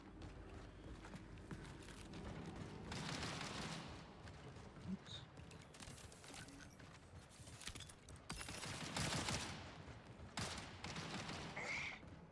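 Bursts of gunfire ring out in an online shooter game, scattered volleys and single shots with a busy mechanical background and footsteps, moderately distant and fairly quiet.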